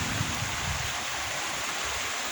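A small river stream rushes steadily and fairly loudly outdoors in nature, a continuous broad wash of flowing water with no talk.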